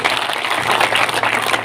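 A crowd claps and cheers at a Karni Sena rally in Jhunjhunu, Rajasthan. The applause is dense and loud and holds steady for the whole short stretch.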